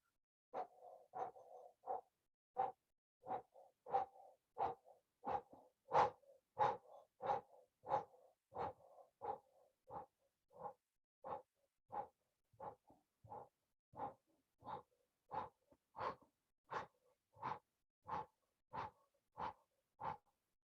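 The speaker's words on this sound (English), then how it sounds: "do panting like a dog breath through the O-shaped mouth, and move vigorously." Vigorous rhythmic panting through an O-shaped mouth during a kriya breathing exercise, roughly thirty quick, evenly spaced breath bursts, close and clear in an otherwise quiet room.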